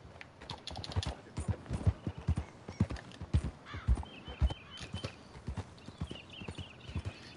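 Steady clip-clop of horse hooves as a rider travels across a Wild West frontier game world, a brisk repeating rhythm close and prominent, with faint ambient chirps in the background.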